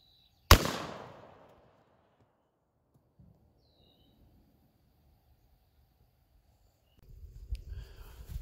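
A .45-70 rifle firing a Maker Bullets hard-cast round at a watermelon at close range gives one sharp, loud report that decays over about a second, followed by near silence and faint outdoor sounds.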